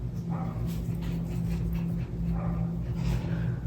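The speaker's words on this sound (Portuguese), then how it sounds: "Meu cachorro tá latindo no fundo aí" A pet dog barks in a home in the background, sounding muffled and not very loud, with a few short yips and whimpers over a steady low room hum.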